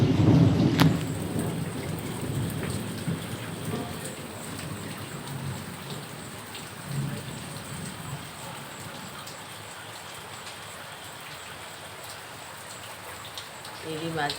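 Steady light rain falls continuously during a stormy monsoon evening, a soft even hiss. A low rumbling swell opens it before it settles into a quieter patter.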